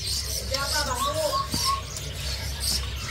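A male blue leafbird sings at a bird kiosk, its short warbling phrases rising over steady background chatter and noise, with people talking nearby.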